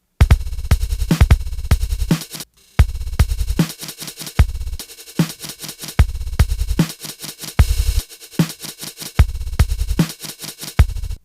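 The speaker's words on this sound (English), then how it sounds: "When you hear the kick, for instance, there's sort of a stutter effect." A heavily time-stretched drum beat thumps loudly, its kick smeared into a stuttering, buzzy repetition, with rhythmic bursts broken by brief gaps and choppy digital artifacts throughout.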